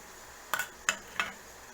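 Turmeric and chili powder are stirred into tomatoes sautéing in oil in a pan while making brinjal thokku, giving three quick, fairly quiet scraping clinks of a spoon against the pan, spaced about a third of a second apart, with no talking.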